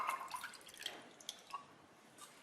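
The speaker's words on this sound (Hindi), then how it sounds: "इसमें 2 कप पानी डालेंगे।" Water poured from a cup into sugar in a pan on the stove for syrup, faint scattered drips and trickles close by with no talking.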